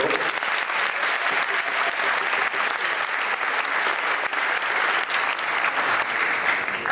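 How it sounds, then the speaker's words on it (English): A crowd at a 2014 Temasek Polytechnic diploma graduation ceremony applauds in a steady, sustained, full-room wave of clapping that stays loud and even throughout. "Can we have the round of applause for the people?"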